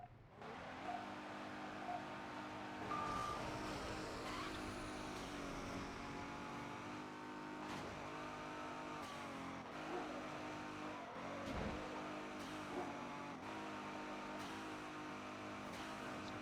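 Racing car engine in the Midnight Club 3 video game, a loud continuous roar with shifting revs and gear changes throughout, steady and close with no talk.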